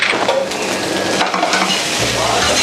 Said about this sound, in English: Just keep it there. Hang it there. Let it sizzle.